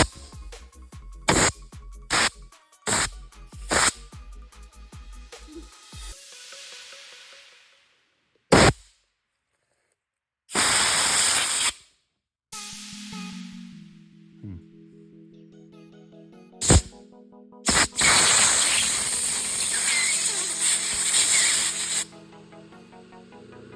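Cleaner is sprayed onto a water-damaged Dewalt impact driver in several close, hissing bursts, some short and some long, between trigger clicks, a rattle and quiet pauses.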